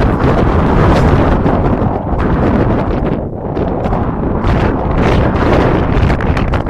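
Strong wind buffets the microphone on a clifftop on the Gozo coast near Ta' Cenc, a loud, continuous roar with gusts that swell and dip and a brief lull midway.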